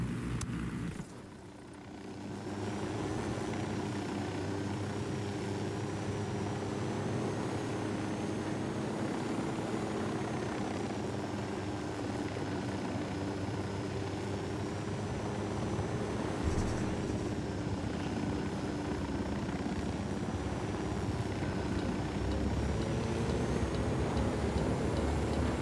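A helicopter in the video game Ghost Recon Wildlands drones steadily throughout near a mine, a loud continuous rotor and engine roar with a brief dip near the start.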